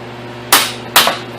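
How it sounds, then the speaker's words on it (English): Two sharp metallic hammer strikes on a transmission part land about half a second apart, loud and close, over a faint steady hum. "Give it a few good raps with a hammer."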